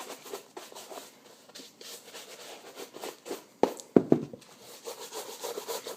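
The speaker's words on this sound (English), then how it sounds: "So first thing we got to do is brush the shoe down thoroughly" A shoe brush sweeps across a shoe in short, soft rubbing strokes, close and fairly quiet, with a few sharper knocks partway through.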